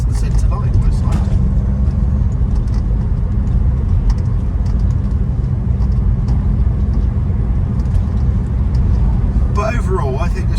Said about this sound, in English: it makes little turbo noises as well